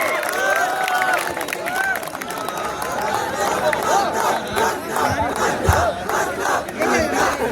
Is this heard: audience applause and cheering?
yes